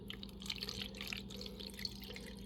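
Dissolved sugar water pours into a container, a faint, soft liquid trickle with light splashing throughout.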